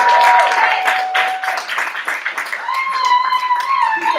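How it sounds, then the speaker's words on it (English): Audience applause at the Berkeley Poetry Slam, scattered hand clapping from a crowd that thins and fades out, with a voice talking over it toward the end. "Round of applause going for Tino"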